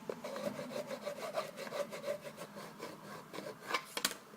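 Rubbing and scraping as a piece of a drawer organiser is burnished into place, a steady run of close, short strokes with a couple of sharper knocks near the end, no talking.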